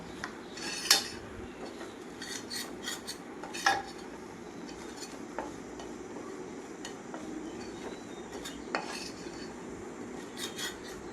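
Spices roasting on a low flame in a pan for a dried mango pickle, with light metallic clinks and scrapes of a spoon stirring against the pan, scattered and irregular over a quiet background.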